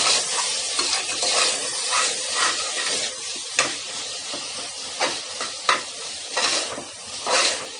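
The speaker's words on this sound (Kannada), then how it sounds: "ಇದೆಲ್ಲದನ್ನ ಚೆನ್ನಾಗಿ ಮಿಕ್ಸ್ ಮಾಡ್ಕೊಳ್ಳೋಣ." Coriander powder and garam masala being stirred in a hot pan for coconut rice, a steady scraping stir over continuous sizzling frying, close and fairly loud with rhythmic spoon strokes and no talking.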